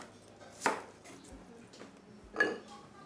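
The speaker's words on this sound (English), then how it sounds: "1 red onion cut into wedges." A knife chops through a red onion, cutting it into wedges, with two sharp, close cuts about two seconds apart against a quiet kitchen background.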